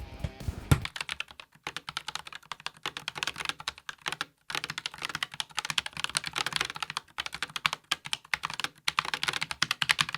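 Steady, fast typing on a keyboard with a membrane-like feel, a dense run of close clicking keystrokes with a brief pause partway through.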